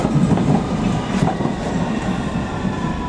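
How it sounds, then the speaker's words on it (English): A London Underground District Line train to Upminster approaches the platform at Barking, a steady loud rumble of wheels on rail with faint squeal and clatter, no voices. "approaching is a District Line train to Upminster"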